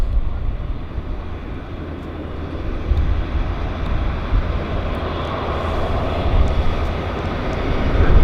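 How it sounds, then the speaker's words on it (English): Air Canada Boeing 787 airliner at Vancouver Airport, a loud, steady broadband jet roar heard from outside that swells slightly toward the end, with no talking over it. "And we've got a 787 coming out."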